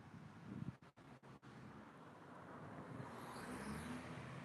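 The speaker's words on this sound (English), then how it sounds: "I hate those loud cars" A loud car rushes past on the road beside a railway line at Port Salerno, its broadband roar swelling and holding steady with wind buffeting the microphone, no talk over it.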